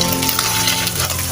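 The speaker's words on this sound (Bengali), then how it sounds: "আমি আজকে সেভাবে ডিম ফ্রাই করার চেষ্টা করছি।" Eggs fry in oil in a pan for fried rice, giving a loud, dense, continuous close-up sizzle with no talking.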